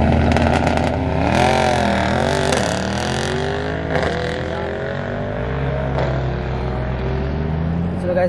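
Mercedes E63 and GT63 racing, their engines roaring loud and close with rising and falling revs, a steady deep drone through the second half.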